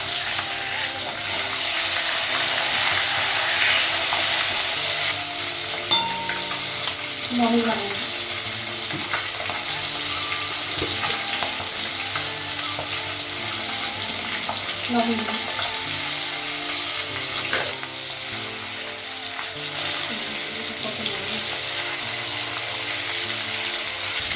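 Fish frying for a Bengali fish curry, a broad continuous sizzle in a pan with intermittent stirring and scraping clinks, steady and close throughout.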